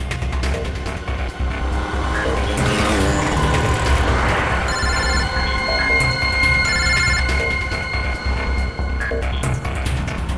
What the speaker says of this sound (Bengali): ফোন কর, তাড়াতাড়ি ফোন কর ওকে।